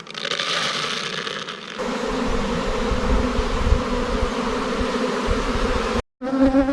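Honey bees at an apiary hive form a dense, close, continuous buzzing swarm, loud and steady throughout, broken by a brief cut near the end.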